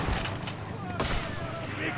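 Gunfire in Sniper Elite 3 pops in a few sharp bursts at moderate distance over a noisy battlefield background, with talking alongside.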